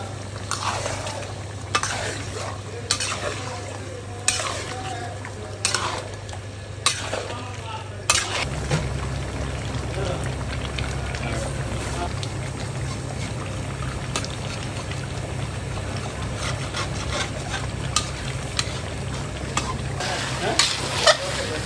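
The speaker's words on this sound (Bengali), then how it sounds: "এই যে কষানো চলতেছে, সেই একটা কষানো হইতেছে ইনশাআল্লাহ।" Spicy chicken being sautéed in a pan, a steady sizzle and frying hiss running throughout with repeated scraping stir strokes, loud and close, with a low background hum and no talk.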